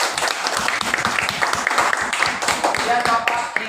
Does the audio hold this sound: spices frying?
no